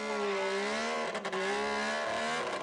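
A loud Jeep engine revs hard on a 1984 cross-country bog course, a steady nearby roar with rising and falling pitch and a brief dip in the middle.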